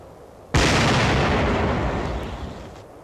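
An artillery round fires with a sudden loud blast, its boom rolling on and decaying slowly over about two seconds. No talk.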